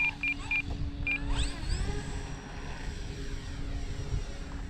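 An E-flite Turbo Timber Evolution RC airplane drones overhead on a windy day, its electric motor whining and shifting pitch, with wind rumble underneath and a few short beeps early on.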